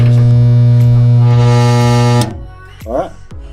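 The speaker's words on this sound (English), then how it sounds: "All right, spot welded." Spot welder joining a replacement rear corner panel on a VW Bus, a loud steady electrical hum for about two seconds that cuts off, followed by quieter clicks and a short hiss as the clamp releases.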